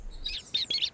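A newly hatched baby bird chirps in three or four short, high tweets in quick succession, close and clear against near silence.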